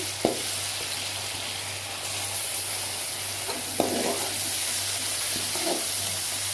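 Steady sizzling of ginger garlic paste frying in a hot pan, with a few clinks of a utensil stirring now and then.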